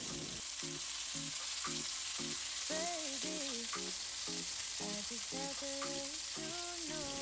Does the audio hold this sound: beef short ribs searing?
yes